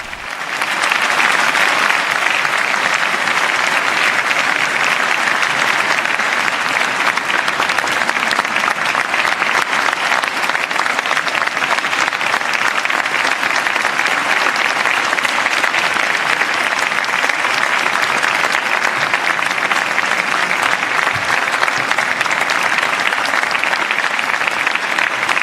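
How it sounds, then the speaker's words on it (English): Sustained, dense applause from a large audience fills a formal hall after Pope Leo XIV's address to authorities in Spain, holding at an even, loud level for about twenty-five seconds without pause. "And we hear the sustained applause for Pope Leo's address"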